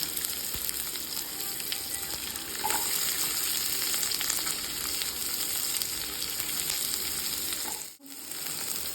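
Chana dal and urad dal frying in hot oil, a loud steady sizzle close up with a few soft stirring sounds and a brief dip near the end, no talk.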